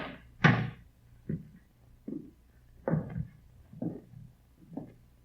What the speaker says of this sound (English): Better try the door